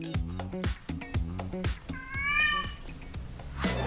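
Cats meowing at a cat show and competition, a run of short repeated meows from nearby animals, then one longer drawn-out wail, loud and close with no talking.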